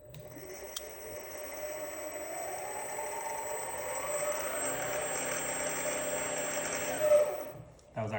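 A Powerflow Marine G22 electric sailboat motor runs in gear, a steady mid-pitched electric whine and hum with a rising tone, close and continuous, with a brief louder surge near the end.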